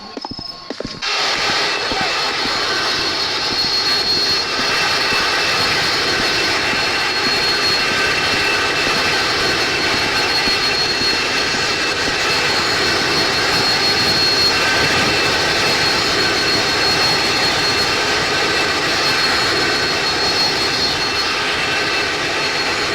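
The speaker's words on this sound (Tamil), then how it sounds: "இது பிளேன் லேண்டா ஆகுது" Airplane landing, heard from inside the cabin as a loud, steady engine roar and rushing air that continues unbroken throughout, with faint creaks.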